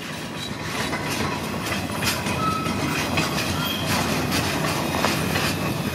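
An Escanaba and Lake Superior Railroad freight train rolls by close and loud on a wintry day, wheels clacking rhythmically on the rails with occasional faint squeals, a steady rumble throughout.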